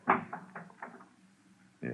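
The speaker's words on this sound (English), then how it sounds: "What's this door? Leads to the back stairs." A door swings open onto a back stairway as a radio-drama effect, a short wooden creak and knock-like bump near at hand, followed by quiet room tone and a brief voice at the end.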